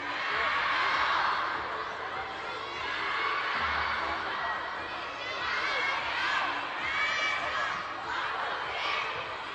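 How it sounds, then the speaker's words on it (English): A crowd cheers and applauds after a point at a table tennis quarterfinal in Macao, a steady roar of voices that swells and holds across the whole stretch, with a commentator talking over it. "The crowd cheer"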